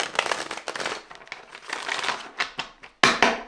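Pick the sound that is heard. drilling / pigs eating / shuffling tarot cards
shuffling tarot cards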